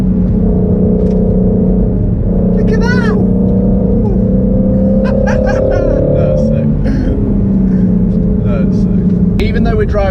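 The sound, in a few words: Ford Shelby GT350 Mustang engine while driving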